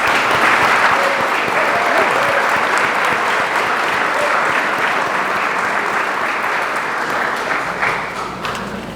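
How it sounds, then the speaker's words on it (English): Sustained applause from an audience at a college honors convocation, loud and steady throughout with a slight fade near the end, no talk over it. "Please join me in offering our applause as they stand."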